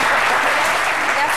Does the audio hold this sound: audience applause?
yes